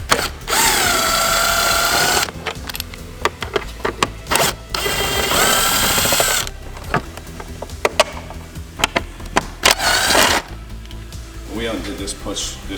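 Power drill driving T27 Torx screws on a Jeep Wrangler JL fender: several short bursts of whirring motor, each a second or two long, separated by clicks and handling noise, with people talking between bursts.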